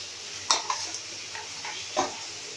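Chicken alfredo pasta sauce being mixed in a sizzling pan, a few distinct scrapes and taps of a utensil against the pan over a steady soft frying hiss.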